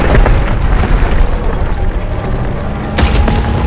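An enemy tank blows up in the Call of Duty WW2 video game with a loud, booming blast, followed by continuous rumbling battle noise and a second sharp burst near the end.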